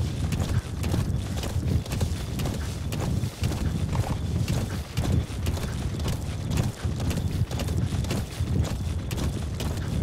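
A horse gallops in Metal Gear Solid 5, its hooves pounding in a fast, steady rhythm that stays loud and close for the whole stretch.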